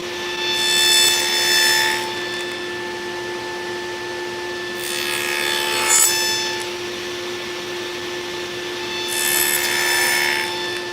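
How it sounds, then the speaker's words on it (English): A router with a dado bit cuts tenons in wood, three separate high whining passes of about two seconds each over a steady motor hum, loud and close, with no talk. "this is a dado bit, and you can use it to cut tenons"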